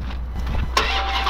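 A Dodge Hellcat's engine cranks and fires up, a short starter whir followed by a sudden loud catch and a deep idle rumble close by.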